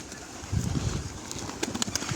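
Pigeons in a loft housing around 250 birds give low, soft coos in short bursts, with faint rustling and a few sharper bird sounds near the end.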